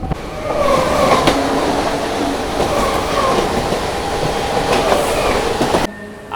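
An express train passes a local train near Serampore, a dense, steady rolling roar with clattering wheels and faint squeals at close range, cutting off abruptly near the end.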